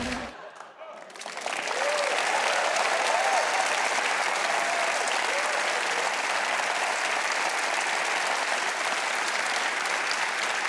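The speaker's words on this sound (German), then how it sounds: "das ist dein Applaus." A television studio audience breaks into loud, sustained applause that rises after a short pause and holds steady as a dense wash of clapping.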